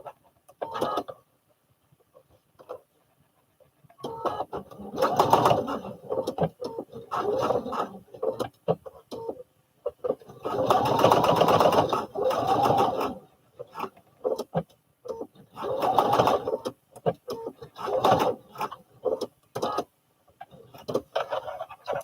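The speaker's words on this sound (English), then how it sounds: "I'm going to sew those pieces down, and then I'm going to come down here and sew the other piece down." A sewing machine stitching fabric pieces of a baby fall-protection pillow runs in several separate bursts of rapid whirring and clattering, broken by short quiet pauses.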